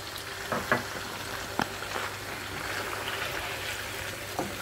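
Garlic ginger paste sizzles steadily in a hot pan while cooking a chicken and chickpea curry, a close, even frying hiss with a few soft stirring scrapes and no talking.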